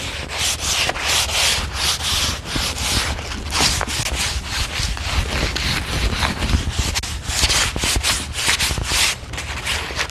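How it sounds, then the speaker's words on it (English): A sand block rubs by hand over a wooden staircase in rapid back-and-forth strokes, making a loud, continuous, close gritty scraping with no talk. "I'm just going to take this and I'm just going to sand just roughly,"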